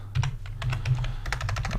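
Steady, rapid clicking of computer keys as a database name is typed in Microsoft SQL Server 2016, close and clear, with a dozen or so quick keystrokes in an even rhythm and no talk.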